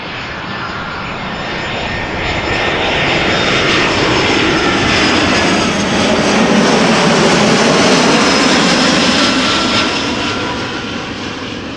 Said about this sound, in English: EasyJet A320 arriving from Berlin.